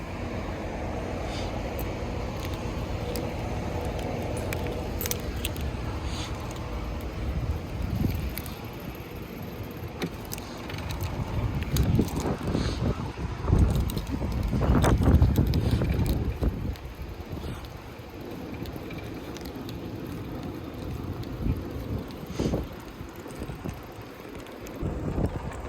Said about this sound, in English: I'm on a bicycle.